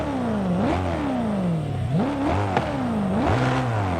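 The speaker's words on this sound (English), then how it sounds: "it's meaty sounding, it's cool, but it's not really the sound of the M3 GTR race car" A BMW M3 GTR race car in Forza Horizon 5 revs hard through repeated gear changes, each pull climbing in pitch before dropping sharply, a loud meaty engine note with clattery mechanical edges and no talk.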